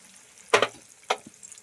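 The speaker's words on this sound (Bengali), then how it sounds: "এবার একটুখানি নাড়াবো।" Two brief scraping stirs of chickpeas and chicken in tomato sauce in a pan, each a short wet sizzle-scrape close by, with quiet gaps between and no talking.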